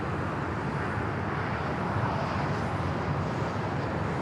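China Eastern Boeing 777-300ER airliner taxiing on the north side of LAX toward Tom Bradley terminal, a faint, steady distant jet engine hum mixed with airport background noise.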